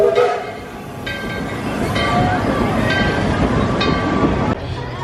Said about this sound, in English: You can see that train calling out through the valley.